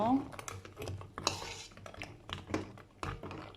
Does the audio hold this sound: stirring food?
yes